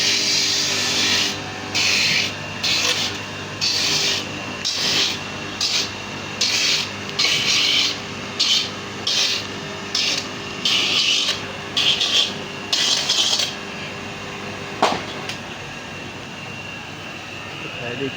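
A coconut grating machine in Malaysia makes repeated rasping, scraping bursts in a steady on-off rhythm over a constant motor drone, then falls quiet as the machine stops.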